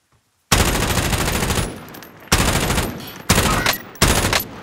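Short controlled bursts of automatic gunfire in the shooter game Warzone, four loud close volleys separated by brief pauses.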